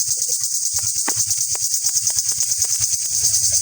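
Field crickets caught in a trap, chirping close by in a loud, continuous high trill with faint pulsing rhythm and no talking.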